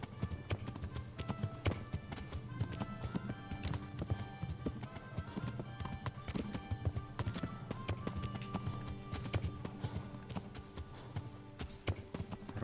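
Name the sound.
horse hooves while riding in the video game Kingdom Come: Deliverance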